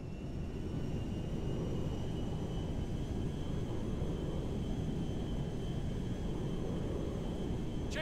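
A jet aircraft lands in the video game GTA V: a steady, loud, broadband engine roar with a rushing rumble holds evenly throughout, with no voices over it.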